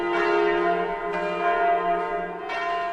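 Church bells toll at a memorial for young victims of a New Year's party fire in Switzerland, ringing repeated overlapping strikes about every second and a half that keep resonating in a continuous, fairly close wash.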